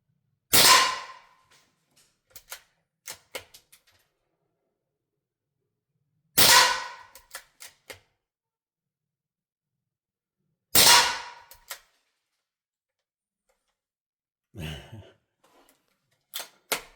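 .22 LR rounds are fired from a bolt-action rifle at body armour. Three sharp, loud shots land several seconds apart, each followed by quiet clicks and handling noises, and a fainter thud comes near the end.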